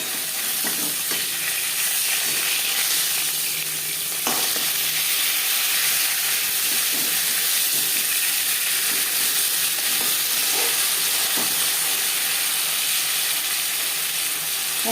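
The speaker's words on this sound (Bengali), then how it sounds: "একটা সাইড ভাজা হয়ে গেলে অপর সাইডটা উল্টে দেব।" A rohu fish head fries in hot oil with a loud, continuous sizzle and crackle throughout, a few sharper pops rising over the steady hiss.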